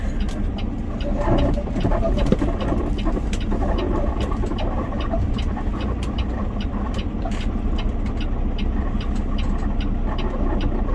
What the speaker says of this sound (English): I think I'm gonna just pull into the driveway instead of trying to back in right now.